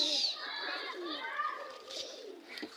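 Pigeons at a home loft coo and call in a steady overlapping chorus close by, with soft chirps mixed in and no talk.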